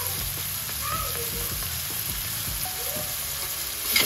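Tomatoes fry in a pan for a fasting-day dish, a soft, steady sizzle close by with a few light scrapes of stirring.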